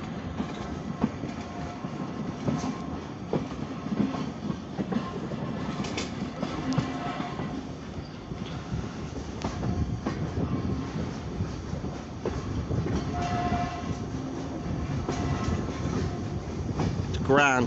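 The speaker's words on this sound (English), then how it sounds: "A beautiful steamer." A steam train on an Isle of Wight railway rolls along steadily with rhythmic rumbling and clattering wheels, heard from on board, with occasional squeals and faint background noise.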